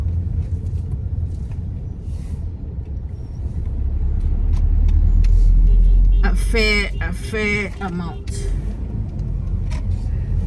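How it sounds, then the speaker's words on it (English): Road traffic passing in Ghana, a loud low rumble from a vehicle that swells and fades as it goes by, with someone talking over it. "Sorry, traffic here."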